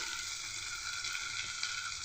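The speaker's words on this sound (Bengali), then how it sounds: "আমি এই তেলের ভিতরে দিয়ে আর খানিকটা ভালোভাবে ভেজে নেব।" Onions and green chillies fry in hot oil for a Bengali fish chorchori with potato and pointed gourd, giving a close, steady, even sizzle with no pauses and no voices.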